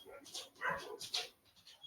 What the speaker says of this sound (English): I couldn't handle the barking anymore. Had to let the dogs in and lock them in.